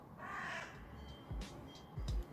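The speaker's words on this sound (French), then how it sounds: "il y a le corbeau" A crow caws outdoors, one drawn-out harsh call followed by a few short clicks and knocks, fairly distant and faint with no speech.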